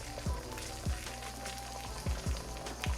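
Three eggs frying in an oiled pan with vegetables for chicken fried rice give a steady close sizzle, with a few soft low thumps from stirring or utensil contact breaking through.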